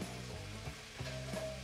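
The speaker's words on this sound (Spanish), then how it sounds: "Ya está bastante caliente el aceite. Y vamos a dorar el arroz." Soaked, drained rice browning in hot oil inside an electric rice cooker, a soft close sizzle with stirring scrapes and brief rhythmic clatter, faint and short, without speech.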